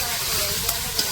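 Fish sizzles steadily while frying in a pan of cooked-down tomato masala, a close and continuous crackle with a couple of brief sharper pops, alone.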